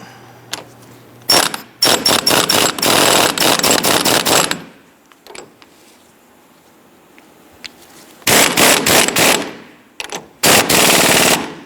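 Impact wrench snugging down the strut mount nut on a 1994-2004 Ford Mustang, firing in loud rapid hammering bursts close by, with a pause in the middle and several short, stuttering blasts near the end.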